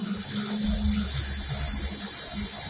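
A 4.0 mm dental implant drill from a Dentium Superline kit runs with a steady, fairly quiet electric whir and a low hum throughout, with no speech.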